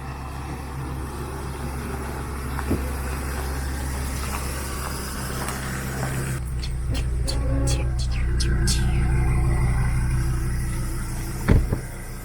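An RV rolls slowly over rough ground toward a lakeside camping spot, its engine a steady low rumble with creaks and rattles from the cabin, swelling slightly midway and ending with a sharp knock.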